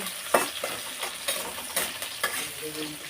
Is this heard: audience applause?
no